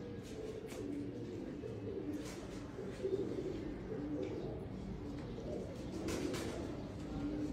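A pigeon coos softly and steadily nearby, low and murmuring, under a constant background rumble.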